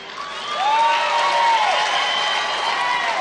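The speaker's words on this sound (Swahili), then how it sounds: "Makofi kwa Olekina" A crowd at an outdoor World AIDS Day gathering in Meru claps and cheers for a senator, a steady roar of applause with scattered whoops and shouts that rises after the first half second and holds.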